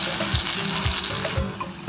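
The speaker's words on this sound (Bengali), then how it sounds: "টমেটোটা আবার ভাজবো ভালো করে, যতক্ষণ না তেলটা ছাড়ছে।" Tomato paste fries in hot oil with ginger and garlic in a pan for Bengali-style palak paneer, a loud, steady close-up sizzle with a bubbling, spattering texture throughout.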